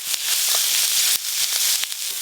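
Chopped ginger, garlic, green chilli and coriander leaves frying in a pan, giving a steady loud sizzle broken by scattered clicks and scrapes of stirring.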